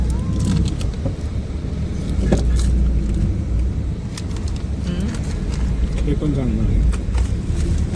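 A bus travelling from Udgir to Pune: a steady, loud rumble of engine and road noise runs throughout, with occasional rattles and knocks, and voices talking over it.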